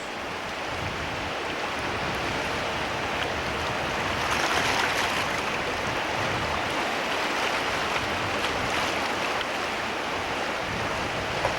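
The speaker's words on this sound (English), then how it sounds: "Dennis and CT coming down 8-foot rapids." Canoes running down 8-foot rapids on the San Juan River, a steady broad rush of churning whitewater, loud and continuous with no voices.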